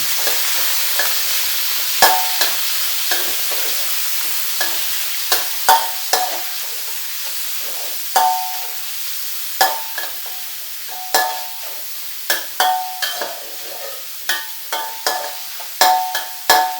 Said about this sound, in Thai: ผมต้องการให้เนื้อหมูสำมชั้นเกรียมนิดหนึ่ง